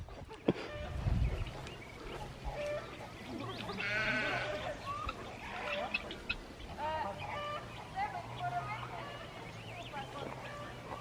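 Ewes on a small French homestead bleat faintly at a distance amid outdoor ambience, with chickens clucking nearby and people chatting throughout.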